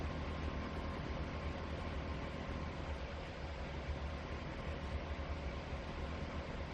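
A train in the Trainz 2022 video game pulls back along the track with a steady, dense rumbling roar that holds constant and loud throughout, with no talking.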